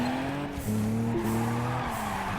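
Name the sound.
car drifting with tire squeal in Juiced 2 video game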